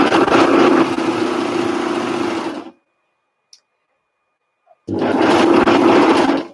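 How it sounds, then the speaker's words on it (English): A cover stitch machine sews knit fabric in two loud, close runs of a steady buzzing whir, separated by a few seconds of near silence with a couple of faint clicks. "I'm going to put my cover stitch machine, and I want to see how this fabric is going to"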